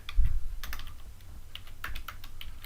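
Clicky computer keyboard typing as HTML markup is entered for an ASP.NET MVC layout view: close, quiet keystrokes in short irregular bursts with a soft thump at the start, and nobody talking.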